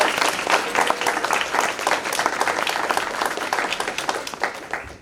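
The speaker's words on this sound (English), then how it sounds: "Please give Roxana a round of applause" An audience at a showcase event applauds steadily and loudly, many hands clapping together in a dense, even wash that holds for the whole stretch without a voice over it.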